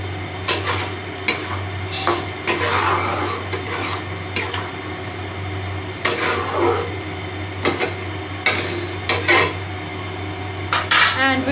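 Spoon scraping and clinking in a pan as oats upma is stirred with a teaspoon of ghee, with repeated short metallic scrapes and knocks at an uneven pace, fairly close.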